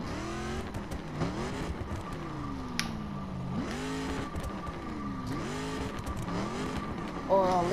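An off-road dirt-spec Dodge Charger in the racing game The Crew revs repeatedly, its engine note climbing and falling in several loud sweeping bursts over continuous engine drone, with tire noise and a brief final surge.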